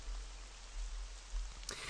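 Steady, soft rain falls as a continuous hiss in the Animatronic Horror video game, with a brief sharper burst near the end.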